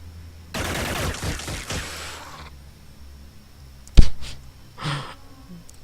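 Gunfire in the video game Xenonauts: a rapid, loud burst of several shots lasting under two seconds, then quiet, followed by a sharp single crack and a short softer burst.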